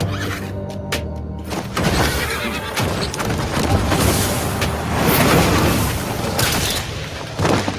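A horse neighs loudly in an M. Bison fighting-game trailer, its whinny ringing out over clip-clopping hooves and heavy booms in a dense, cinematic mix.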